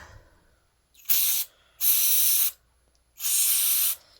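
Contact cleaner sprayed onto a Mini 4WD motor in three loud, close hissing bursts of about half a second to a second each, with short pauses between them and no talking.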